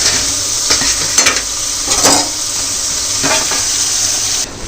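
Tomatoes frying in very hot oil for Maggi noodles: a loud, continuous sizzle heard close up, with occasional scrapes and clinks from stirring.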